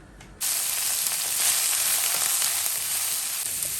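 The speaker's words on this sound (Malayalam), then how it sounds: "അതിലേക്ക് നമ്മൾ നുറുക്കി വെച്ചേക്കുന്ന ഈ ബ്രോക്കോളി ഇട്ടിട്ട് ഒന്ന് വഴറ്റിയെടുക്കുന്നു" Steady, close crackling sizzle of chopped broccoli sautéing in hot oil, starting abruptly and continuing evenly throughout.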